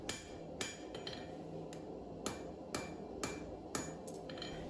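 A hammer strikes the tang of a stainless pattern-welded chef knife in sharp metallic blows, about seven in an uneven rhythm, close and clear against a low workshop hum.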